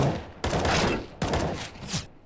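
Two sharp Desert Eagle pistol shots in Counter-Strike: Global Offensive on the Dust2 map, each a loud close blast with a hissing tail, spaced about a second apart, no talk over them.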